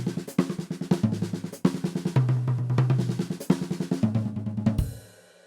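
A drum kit plays rapid six-stroke roll patterns spread between the hi-hats and snare, dense fast strokes with accented hits, close and alone, ending on a ringing cymbal crash.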